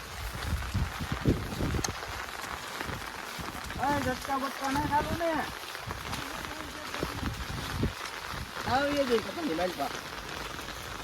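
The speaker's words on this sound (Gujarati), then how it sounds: "વરસાદ વધી ગયો છે" Continuous patter of unseasonal rain on surfaces in Bhavnagar, with people talking and a sing-song voice over it, moderately loud and close.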